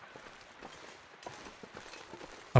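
In The Long Dark, a deer steps through the wilderness, its soft uneven hoof thuds repeating at moderate distance beneath a constant windy backdrop, ending in a sudden louder thump.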